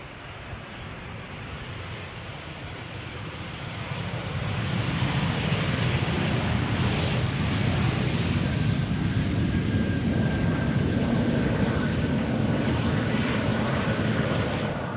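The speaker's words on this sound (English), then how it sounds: "This is KLM flight 736, 777-300." A KLM Boeing 777-300 arriving from Curaçao roars in on approach to Schiphol's Polderbaan runway. Its broad jet rumble grows louder over the first few seconds and then holds as a steady, strong drone.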